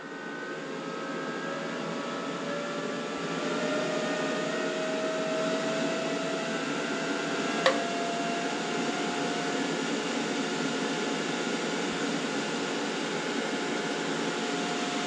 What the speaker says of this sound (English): You can hear the fans ramping up.